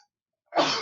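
A single sharp sneeze bursts out close after a brief silence, loud and breathy.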